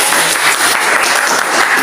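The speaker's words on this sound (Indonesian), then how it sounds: "Oke, tepuk tangan." Dense applause from a class audience fills the space steadily and loudly, a continuous wash of many hands clapping with no break, following a teacher's cue during a lesson.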